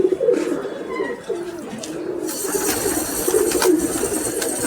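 Soft, low cooing of pigeons repeats through a steady outdoor background, with a faint chirp here and there; no one speaks.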